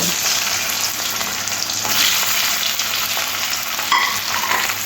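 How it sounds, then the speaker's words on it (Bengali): Boiled, cubed potatoes fry in oil with nigella seeds and dried chillies, giving a continuous close sizzle with occasional soft stirring scrapes and crackles. "তখন আলুটা ভাজা ভাজা হয়ে গেছে এবার আলুগুলো দিয়ে দেব"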